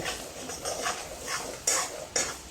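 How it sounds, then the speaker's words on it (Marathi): Spoon stirring and scraping a masala spice paste as it roasts in melted butter in a pan for butter chicken, with a faint sizzle, a few soft clinks and two sharper knocks against the pan. "तो मसाला घालून घेऊ त्याला जरा भाजून घेऊया बटरमध्ये"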